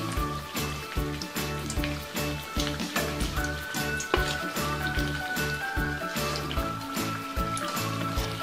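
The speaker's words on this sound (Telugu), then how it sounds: "ఇదే విధంగా మిగిలిన బజ్జీలన్నీ ఫ్రై చేసుకోండి." Raw banana bajji fry in hot oil, giving a dense, continuous close-up sizzle with popping bubbles, while a background music bed plays steadily underneath.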